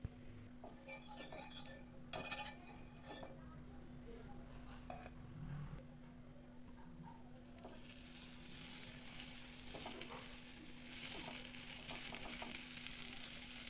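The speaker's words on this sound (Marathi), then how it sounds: "आपल्याला दोन्ही साईडने भाजून घ्यायचं आहे ब्रेड." Bread sizzles as it toasts in butter or ghee in a pan, giving a soft frying crackle with a few clinks of a utensil against the pan early on, and the sizzle grows louder toward the end.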